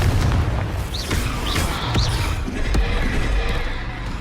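A Confringo fire-spell blast in the Hogwarts Legacy game lands as a deep boom among a string of whooshing spell effects and dull thuds during combat.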